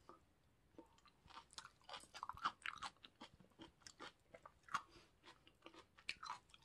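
Wet crunchy chewing of canned kimchi, bites and munching in an irregular close-up rhythm with no talk.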